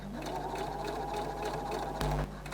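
Sewing machine stitching fabric piping through a piping foot, a steady close motor whir running throughout with a brief louder surge near the end, no voices.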